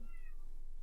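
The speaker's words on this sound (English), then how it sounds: "Sorry, the cat's speaking." A house cat gives one short, faint meow that lasts under a second, alone and without speech, against a quiet indoor background.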